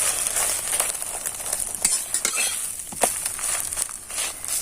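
Steady hiss of a paratha frying in a pan with scattered crackles and scraping clicks, fairly close, with no voices.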